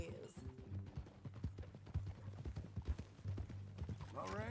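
Horse hooves clip-clop at a steady walking rhythm in the video game Red Dead Redemption 2, close and distinct, with creaking tack and faint background music and voices mixed in.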